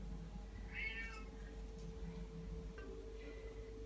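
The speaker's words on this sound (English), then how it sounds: "Cat say meow." A house cat meows close by, one clear drawn-out meow followed by a fainter, shorter one, over a low steady hum indoors with no speech.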